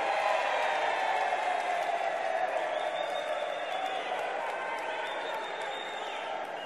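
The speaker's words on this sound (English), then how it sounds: "A round of applause" Applause fills a parliamentary chamber in South Africa, a dense, steady wash of many hands clapping with some crowd noise mixed in, holding at an even level throughout.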